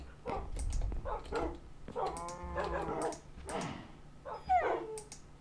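Dogs in a video game, glitching, yip, bark and whimper almost continuously, with high whining cries and short barks layered over a low background hum, close and moderately loud.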